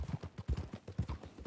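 Horse hooves clip-clopping at a walking pace in a Western open-world game, a close, even beat of soft thuds with no talking over it.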